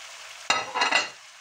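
Pork hits a pan of frying onion sofrito with a sudden loud sizzle that swells briefly in a couple of bursts, then fades back to a low background hiss.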